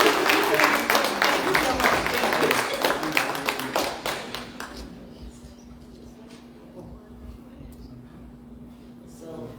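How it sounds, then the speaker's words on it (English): A conference audience at an international climate change event gives a speaker a round of applause, many clear claps tapering off after about four seconds into quieter room noise. "Ladies and gentlemen, let's give her another round of applause"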